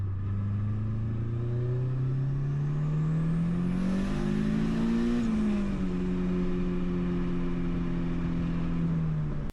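A turbocharged car engine makes a full-throttle pull with the turbo locked open. Its loud drone climbs steadily in pitch for about five seconds, drops briefly at the shift, then holds a steady tone. There is no talking.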